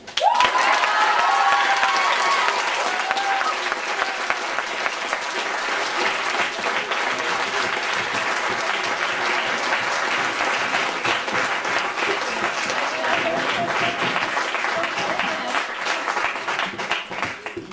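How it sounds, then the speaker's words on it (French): Loud, sustained applause from a large audience for children after a sixth-grade school show, steady clapping with occasional cheers running the whole way through. "je voudrais que vous applaudissiez encore une fois les enfants"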